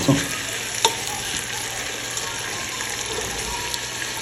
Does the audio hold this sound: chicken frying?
yes